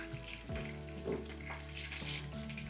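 Onion bajji and green chillies frying in hot oil, giving a steady close sizzle throughout with a low hum underneath and no talk.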